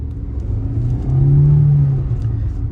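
A Kia Sonet HTK accelerates hard from first gear, its engine note swelling and rising to a loud peak midway, then easing back into a steady, close rumble.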